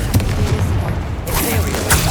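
A Bombarda spell explosion in Hogwarts Legacy sounds as a loud, close booming blast with a crackling burst and a second thump after it, with a voice speaking over it.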